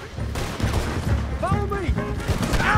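Gunfire in the Western video game Red Dead Redemption 2, several loud shots in a dense battle mix with shouting voices and game sounds layered over it.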